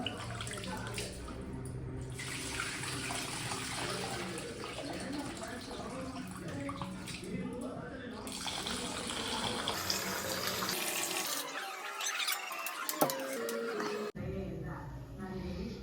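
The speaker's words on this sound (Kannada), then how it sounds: "ಇದು ಸ್ವಲ್ಪ ವಾಶ್ ಮಾಡ್ತಾ ಇದ್ದೀನಿ" Rice for a vegetable pulao is washed under a running kitchen tap, with a continuous, close rush of water that shifts in tone as the grains are swirled, and a voice is heard at times.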